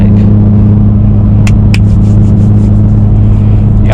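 A BMW E92 335i on the highway, heard from inside as a loud, constant deep exhaust drone and road rumble with a couple of brief sharp whooshes from the turbo.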